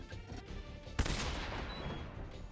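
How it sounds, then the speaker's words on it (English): Stun grenades in Metal Gear Solid 3 go off with a sudden sharp burst, followed by a sustained noisy crackling roar that fades slowly over the next second or so. "Just throw stun grenades at each of them."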